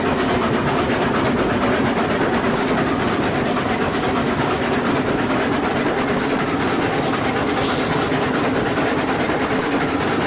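A train rolling up a gentle 2.5% mountain grade in the video game Railroads Online, a loud, steady rumble with continuous rattling wheel noise and no pauses.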